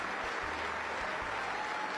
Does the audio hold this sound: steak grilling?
no